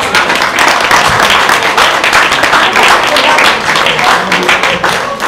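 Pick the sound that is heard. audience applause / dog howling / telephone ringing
audience applause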